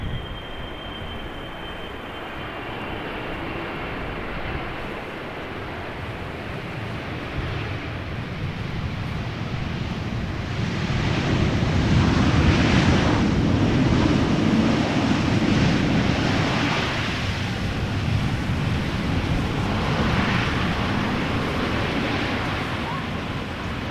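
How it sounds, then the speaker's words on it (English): A Finnair Airbus A330 climbing out of Amsterdam Schiphol passes overhead, a broad distant engine roar that swells through the middle and slowly fades, mixed with gusty wind buffeting the microphone. "The Finnair A330 to bloody Helsinki that we saw land earlier is now also passing overhead."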